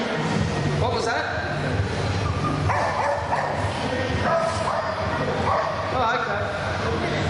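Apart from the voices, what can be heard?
nervous sheepdog whimpering and yipping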